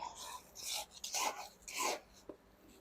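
Potting soil scooped and poured into a pot while repotting a succulent, heard as close, gritty rasping and scraping swells in several irregular bursts, with no talking.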